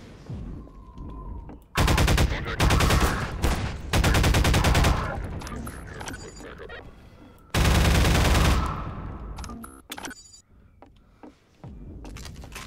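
Rapid automatic gunfire from a weapon in Half-Life 2, two loud sustained bursts of many shots, with clanks and rattles in the gaps between them.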